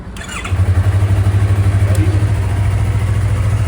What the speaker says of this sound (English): you're just gonna pull and hold it down for a second, and that's gonna turn the bike on